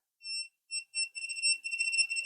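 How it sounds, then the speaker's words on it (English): A handheld Kaiweets voltage detector beeps in short tones, first spaced apart, then faster and almost continuous as it nears a live wire. The beeps are clear and close, with no voice. "as you get closer, it flashes quicker, beeps quicker"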